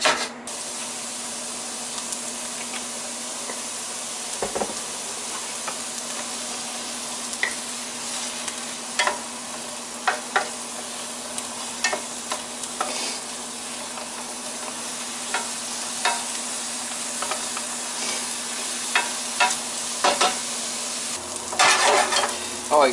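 Onions caramelizing in a hot pan give off a steady, close sizzle, broken now and then by sharp scrapes and clicks of stirring; nobody speaks.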